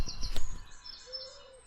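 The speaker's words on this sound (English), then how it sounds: "Birds are singing away" Birds singing early in the morning, a few bright chirps and a short whistled call, fairly close and alone with no talk.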